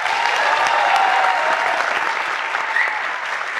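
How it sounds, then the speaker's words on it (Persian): A television comedy show's studio audience applauds loudly and continuously, a dense even wash of clapping heard up close with no voices over it. "یه دست به افتخارش بزنین"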